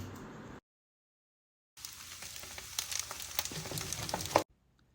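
Eggs stirred into kimchi rice frying in a pan, a steady crackling sizzle with scraping clicks of the spatula, following a brief gap of silence and cutting off abruptly.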